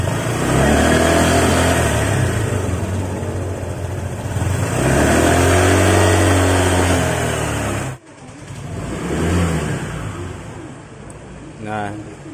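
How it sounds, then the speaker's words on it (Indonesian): Honda PCX scooter with its stock exhaust, idling steadily then revved a few times with rising and falling engine tone, cutting out briefly before restarting, close by while someone talks over it. "ini bisa teman-teman lihat atau dengarkan suara knalpotnya yang standar"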